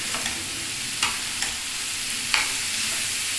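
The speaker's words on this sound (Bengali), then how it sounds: "এই যে ভেন্ডিটাকে ছোট ছোট কেটেছি, এইটাও এর মধ্যে ছেড়ে দিলাম।" Chopped okra stirred into frying potato, onion and egg in a pan, giving a steady sizzle with a few sharp scraping clicks of the stirring spoon.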